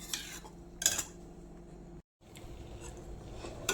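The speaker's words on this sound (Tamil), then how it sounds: "இப்போ நம்ம இதை அடுப்பில் வச்சு கிண்டலாங்க" Black urad dal porridge is stirred in a pot on the stove, with a spoon clinking and scraping against the metal in a few sharp knocks between quieter stirring, close and without speech.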